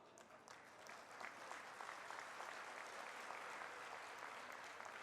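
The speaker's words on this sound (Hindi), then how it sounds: "जो मेरे कानों में तालियों की गड़गड़ाहट की आवाज सुन रहा हूं" A crowd at an outdoor political public meeting in Chitrakoot claps, swelling into sustained, dense, distant applause that continues steadily to the end.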